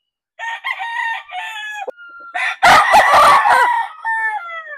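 A pure white Kelso gamecock crows loudly and close, with several drawn-out harmonic calls, a brief burst of harsh noisy squawking in the middle, then another crow trailing off.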